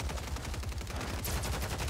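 Rapid gunfire from a video game shooter, a dense run of shots loud and close throughout, with no talk over it.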